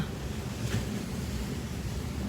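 Sea waves washing onto the beach at Bang Saen, heard as a steady broadband rush of surf mixed with wind noise on the microphone, with no talking.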